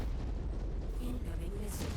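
A mech blowing up in modded MechWarrior 5: a sustained, dense rumbling blast with heavy low booms filling the whole stretch, with faint game voice cues over it.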